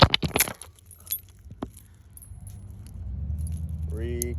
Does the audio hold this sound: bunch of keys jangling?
yes